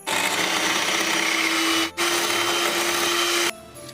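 Electric beater whirs through vanilla cake batter with a loud, steady motor drone, cutting out briefly midway, restarting, then stopping near the end, with no talking.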